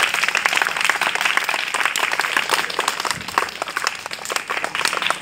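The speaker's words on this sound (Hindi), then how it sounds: "अब सब लोग ताली बजा दीजिए," Children applauding together in a lively, sustained burst of many small hands clapping, steady and close throughout.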